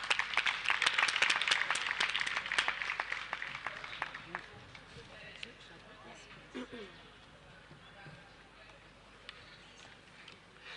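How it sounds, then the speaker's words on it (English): Audience applause for a performer named Maya at a literary festival session, a dense burst of clapping that swells loudly for about four seconds, then thins and fades into quieter room noise. "So the last but the biggest clap for Maya."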